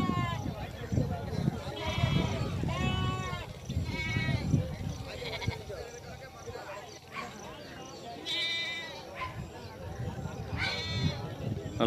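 Goats bleat repeatedly at a busy livestock market, several animals calling near and far, under steady crowd chatter and people talking.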